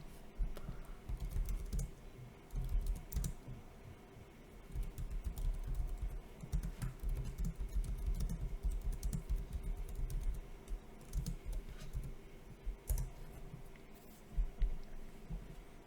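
Computer keyboard typing of commands for a Linux server update, steady bursts of keystrokes over about sixteen seconds with brief pauses, close and clear, no voices.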